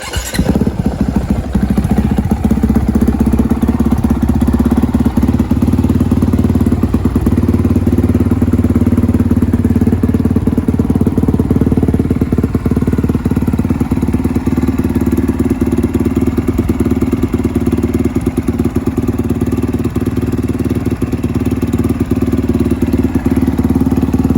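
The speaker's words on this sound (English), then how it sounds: "we'll get it to start up to get the water off the engine" A Honda CRF450R dirt bike engine idles steadily at close range after washing, a loud continuous rumble with faint clattering, running on without pause.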